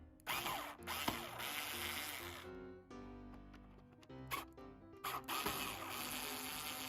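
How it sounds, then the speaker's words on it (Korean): A power screwdriver whirs in several bursts as two screws come out of the bracket on a Samsung wall-mounted air conditioner, with clicks and handling noise between runs, close by. "일단 이 나사 2개를 풀러 주시고요."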